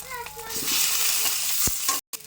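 Potatoes frying with turmeric and a cooked paste of onion, chilli and garlic for a Bengali rohu fish curry, a steady close sizzle with stirring scrapes that cuts out briefly near the end.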